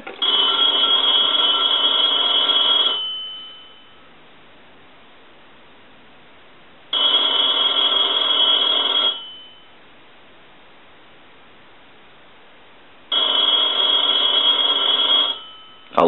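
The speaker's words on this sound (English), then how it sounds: "we want to ring this telephone because this telephone did not have a bell" An old Northern Electric three-slot payphone bell rings in three long bursts, each about two seconds, separated by silent pauses, loud and close.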